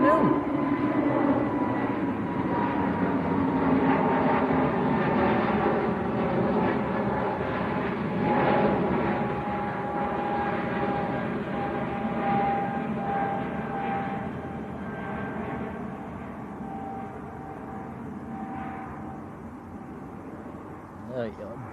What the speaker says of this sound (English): here comes KLM to Amsterdam